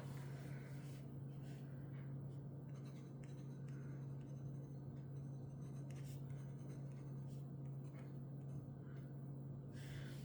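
Fountain pen nib scratching across paper, laying down Colorverse permanent navy ink in steady, continuous writing strokes, faint and close, over a constant low electrical hum.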